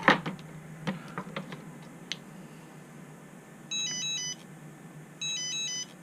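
Two short buzzing bursts of a small haptic vibration motor in a Turnigy Evolution controller, each under a second, after some faint clicks and handling noise; quiet and close.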